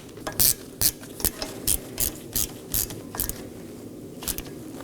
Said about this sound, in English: Now I'm going to snug it down with my T30 Torx bit.